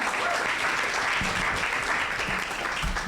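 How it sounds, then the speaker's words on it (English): An audience applauds panelists at a community dialogue, a steady, moderately distant clapping that holds at an even level for the whole stretch. "give them a big round of applause"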